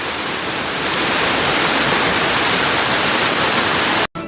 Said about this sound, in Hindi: ये छोटी छोटी बजरी, ये ओले नहीं होते, ये होती है बजरी, बिल्कुल छोटे छोटे से